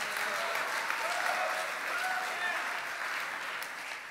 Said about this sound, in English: If you didn't clap, go ahead and clap